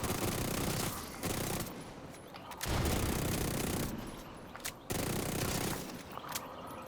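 Rapid ranged-weapon gunfire in a shooter video game, long dense bursts of automatic shots with short pauses between volleys, loud and steady.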